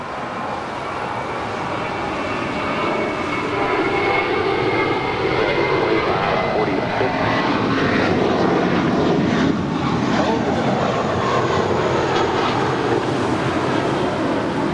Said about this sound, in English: 2546 departing to Mexico City. It's a 16-year-old Airbus A319.